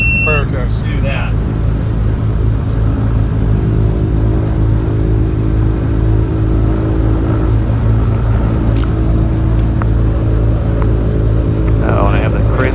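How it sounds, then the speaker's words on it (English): Loud alternator whine inside an Aerostar Super 700 twin-engine aircraft during start procedure, a steady tonal drone layered over constant engine and cabin noise throughout. "Oh, and I have that crazy alternator whine, loud as can be."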